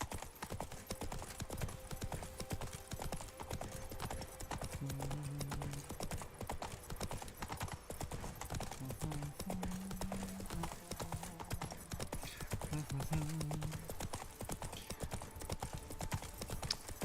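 Clip-clop of Roach the horse's hooves galloping in The Witcher 3, a steady dense patter running throughout at moderate level, with a few short neighs and snorts over it.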